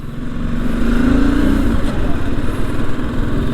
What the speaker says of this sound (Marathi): आता बाईक निघाला